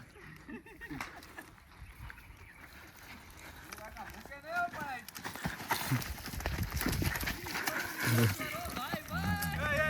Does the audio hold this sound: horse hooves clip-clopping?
yes